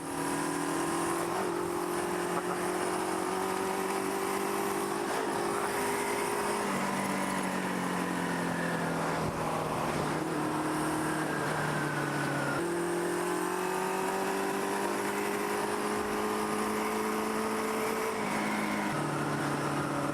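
A Kawasaki KZ650 motorcycle engine with a badly slipping clutch drones steadily while being ridden, its pitch rising and falling through gear changes over constant wind rush, no voices.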